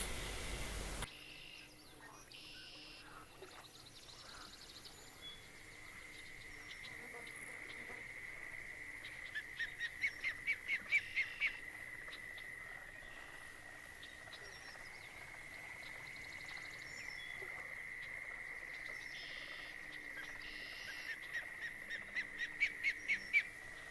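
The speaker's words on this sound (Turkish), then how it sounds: "gölde böyle sürekli uyuz bir ses çıkartan bir tane daha kuş var." A bird calls repeatedly at a lake in the Fishing Planet fishing game, short rapid bursts of chattering notes over a constant shrill insect-like drone and quiet ambience, the bursts returning in clusters across the scene.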